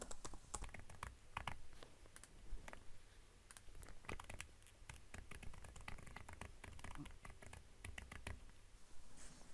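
Faint keystrokes patter on a computer keyboard in a quiet room, an uneven run of light clicks with short pauses between bursts and no talking.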